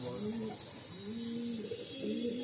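Low rounded pigeon coos repeat in a slow rhythm at close range, a few phrases over a steady faint background hum.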